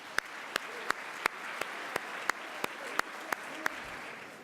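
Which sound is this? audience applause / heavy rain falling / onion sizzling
audience applause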